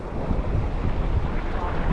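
Wind gusting steadily across the microphone at a rocky seaside fishing spot, a continuous loud buffeting rumble with no pauses, sea and surf blended in underneath.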